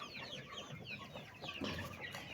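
Chicks clucking and peeping softly at close range, a busy stream of short chirps throughout, faint overall.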